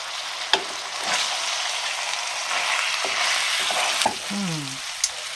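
Spiced lamb frying in a tagine gives a steady, close sizzle while a utensil stirs it, scraping and knocking against the pot a few times, with a brief squeaky scrape near the end.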